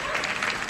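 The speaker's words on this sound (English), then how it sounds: "That was lukewarm applause." Lukewarm applause from a 1970s game show studio audience, a short, even burst of clapping with no standout claps.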